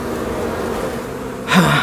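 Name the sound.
Arataki honey bees fanning their wings at the hive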